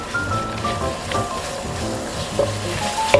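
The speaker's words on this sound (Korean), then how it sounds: "썰어둔 양파와 파를 넣고 볶아줍니다" Sliced onion and green onion stir-frying in olive oil and butter in a pan over medium heat: a soft, even sizzle with light stirring under background music.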